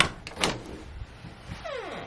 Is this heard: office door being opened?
yes